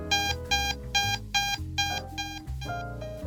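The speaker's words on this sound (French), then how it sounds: "Vous entendrez également un bip répété pendant 15 secondes." A Prevena wound therapy unit beeps repeatedly in a steady pulsing pattern, about six short bright tones over a low hum, then a softer sustained tone near the end.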